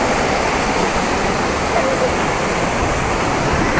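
Athirappilly waterfall in Kerala roaring as one steady, loud wash of falling water that holds an even level throughout, close and continuous, with no voices over it.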